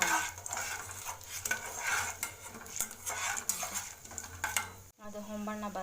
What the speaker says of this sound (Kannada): ಸ್ವಲ್ಪ ಹೊಂಬಣ್ಣ ಬರೋವರೆಗೆ ಸ್ವಲ್ಪ ಹುರ್ಕೊಂಡು